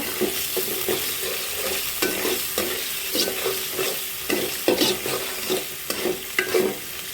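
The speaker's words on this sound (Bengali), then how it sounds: "এখন চিংড়ি মাছ দিয়ে দিব পেঁয়াজের সাথে চিংড়ি মাছগুলো ভেজে নিব" Prawns fry with onions in a hot pan, sizzling loudly and steadily. A spoon or spatula scrapes and stirs the pan in quick, uneven strokes, close up and with no talking.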